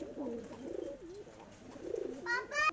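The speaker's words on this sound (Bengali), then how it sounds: "সব উড়ছে, রিসেন্ট পায়রাগুলো উড়ছে এখন।" Madras pigeons in a loft coo in low, warbling, repeated phrases at moderate volume. A brief brighter chirp comes near the end.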